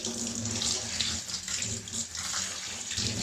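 Water runs steadily from a tap while homemade vegan banana shampoo is rinsed out, a continuous close splashing flow with no pauses.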